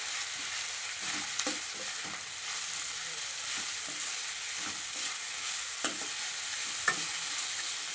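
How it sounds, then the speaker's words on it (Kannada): Ginger and garlic fry in a pan while being stirred, a steady close sizzle broken by scattered scraping clicks of the spoon throughout, with no talking. "ಈಗ ಇದಿಷ್ಟು ನಾವು ಚೆನ್ನಾಗಿ ಕೆಂಪುಗೆ ಫ್ರೈ ಮಾಡ್ಕೊಳ್ಳೋಣ."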